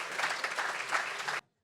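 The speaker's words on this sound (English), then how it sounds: "Let's give not only Barry, but Dr. Pablo Ortiz our appreciation, a huge round of applause," A luncheon audience applauds Dr. Pablo Ortiz, a steady patter of many hands clapping at moderate distance for over a second before cutting off abruptly into silence.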